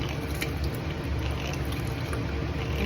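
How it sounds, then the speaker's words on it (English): Iodine stain solution flushed from a bottle over a microscope slide during a Gram stain in a microbiology lab, a steady soft wash of pouring liquid running the whole time with no talk. "And you're just flushing it on there, making sure it's nice and covered."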